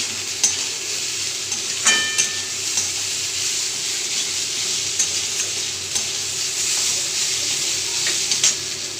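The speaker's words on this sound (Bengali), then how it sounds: "পরিমাণ মতো নুন দিয়ে দেবো, দিয়ে আবার ভেজে নেবো এটাকে" Salted food, for a Bengali muri ghonto dish, fries steadily in a pan with a constant close sizzle and hiss, broken by occasional stirring scrapes and clinks.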